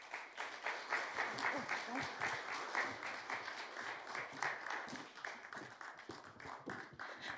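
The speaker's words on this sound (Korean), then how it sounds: "하수정 북유럽 연구소장님 큰 박수로 모시겠습니다" An audience at a lecture event bursts into a sustained round of clapping to welcome a Nordic research institute director, many hands rapidly overlapping at a moderate distance.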